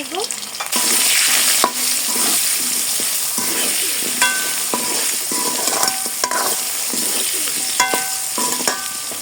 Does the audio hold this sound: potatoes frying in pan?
yes